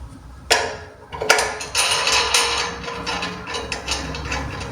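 Locknuts on a walk-behind tractor hitch are loosened with a wrench, giving sharp metallic clicks and scraping ratchet-like taps that come in uneven bursts, close and fairly loud, with no talk.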